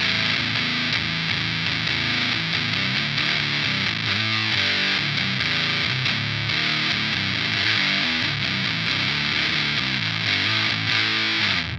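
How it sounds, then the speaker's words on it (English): An electric guitar played through an amplifier's built-in distortion, a dense, fuzzy and saturated tone with steady riffing and chords, loud and continuous with no talking. "I'm talking about the built-in distortion this thing has"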